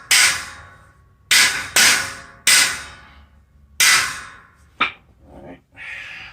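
Sharp metal hammer blows driving rivets into Husky steel storage shelf frames, five or six loud ringing strikes at irregular intervals, each decaying quickly, with a quieter scrape near the end.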